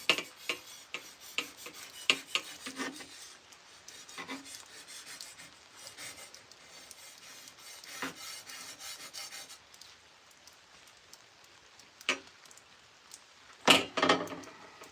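A sword edge being sharpened, with repeated close rasping strokes of abrasive on steel in an irregular rhythm, separated by quiet pauses and a few sharper scrapes near the end.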